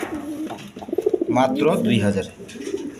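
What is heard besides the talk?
pigeons cooing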